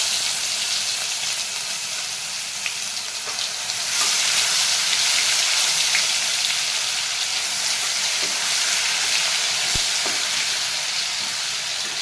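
Ginger garlic chili paste frying in hot oil for paneer chilli, giving a loud, dense, continuous sizzle with steady crackle and a brief clink partway through.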